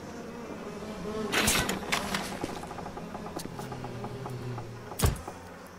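A swarm of bees in BioShock Remastered buzzes continuously close by, a droning hum that swells in bursts, with sharp louder hits around the middle and near the end.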